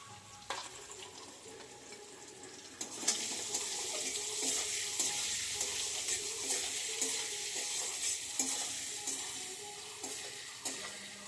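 Potatoes with salt and turmeric frying in a pan with a soft, steady sizzle and occasional scraping stirs, no voices.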